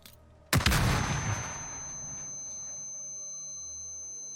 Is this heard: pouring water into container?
no